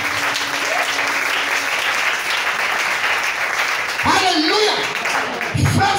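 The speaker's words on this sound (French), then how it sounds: "Est-ce que quelqu'un peut acclamer pour la parole?" A church congregation applauding during a service, steady loud clapping from many hands that trails off, with voices rising over it near the end.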